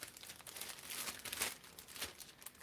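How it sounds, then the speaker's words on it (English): A plastic toy figure being slid back into a crinkly plastic bag, giving faint, continuous close-up crinkling with a few sharper rustles and no speech. "Wolverine is going to go back into his plastic bag."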